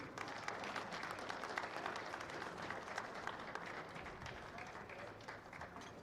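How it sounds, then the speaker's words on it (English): Crowd applause during a senior recognition at a women's college basketball game, a steady, diffuse wash of clapping in a large gym, fairly faint and distant, with some murmur of voices underneath. "Ladies and gentlemen, not being here, round of applause, Sierra Cook."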